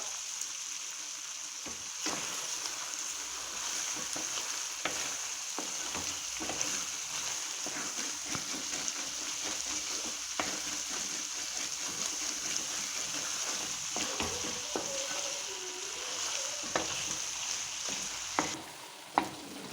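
Beef sizzles steadily in a hot pan as Kerala-style beef ularthiyathu dries out, with curry leaves added, under repeated scraping stirs. The frying hiss stays constant, and a brief louder splash comes near the end.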